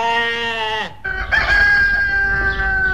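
A rooster crows loudly and clearly, a long drawn-out call with a brief break before a second crow, close to the listener.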